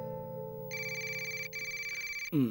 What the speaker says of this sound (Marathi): अरे, रंजनाताईंचा फोन आहे.